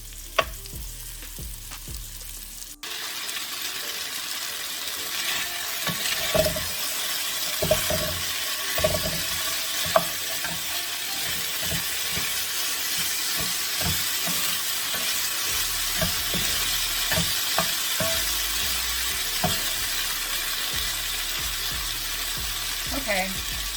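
Beef browning in a skillet for a teriyaki noodle stir fry, a loud, continuous sizzle with scattered pops and clatter from stirring, close up throughout after a brief quieter opening.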